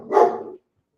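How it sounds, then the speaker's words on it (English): Dogs barking indoors, one short loud burst of barking heard close by, then silence. "I'll get out of here real quick so people don't have to hear dogs barking"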